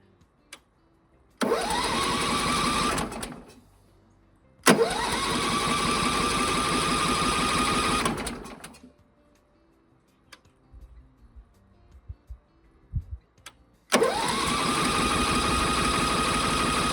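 A Norwood HD36V2 sawmill engine cranked with the choke pulled and key turned: three loud, close starter attempts, each a sustained whirring crank of a few seconds, separated by quiet gaps with faint clicks and small knocks.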